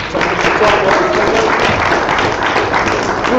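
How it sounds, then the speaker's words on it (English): Audience at a Valhalla Strength Q&A applauding Stan Efferding as he comes down, a loud continuous patter of many hands clapping close by, holding steady throughout. "can I get a round of applause for Stan coming down?"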